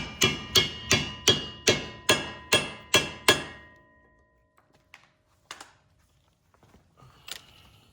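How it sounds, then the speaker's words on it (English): Hammer striking a socket onto a rounded-out axle nut on a Mazda Miata during a differential swap: eight sharp, evenly spaced metallic blows, then quiet with a few light clinks and taps. "All right, now we're gonna have to smack this on here because it's rounded out."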